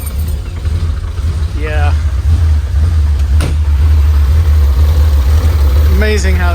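A 1972 Porsche 911ST tribute engine catches and settles into a deep, steady idle close by, its rumble swelling early on and then holding, with brief voices speaking over it.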